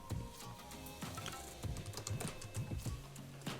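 Close, quiet typing on a computer keyboard, a quick irregular patter of soft key clicks running steadily through the whole few seconds with no one talking.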